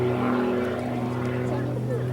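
Single-seat Pitts S2A aerobatic biplane at the Cosford airshow, its engine droning steadily with a strong tonal propeller hum, loud and continuous beneath a commentator talking over a public address.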